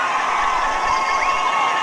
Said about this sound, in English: Crowd noises. Really incredible at this point.